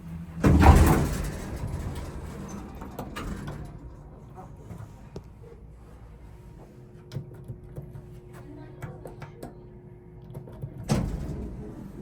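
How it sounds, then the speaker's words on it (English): A vintage 1970s Otis hydraulic elevator door slides shut with a loud rumbling thud at the start, followed by a quiet hum and faint clicks, then another soft bump near the end. "We'll let the door close"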